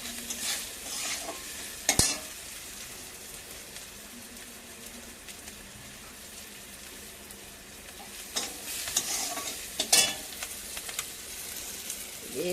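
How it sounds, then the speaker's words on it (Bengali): Spice paste sautéing in a pan, a steady close sizzle broken by a few sharp spatula scrapes and knocks against the pan, with no talking. "মশলাটা একটু কষিয়ে নেব।"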